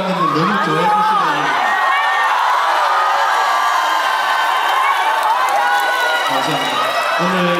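Outdoor festival audience cheering and clapping for a singer, a loud, dense, sustained crowd roar of applause and shouts, with a voice speaking over it at the start and end.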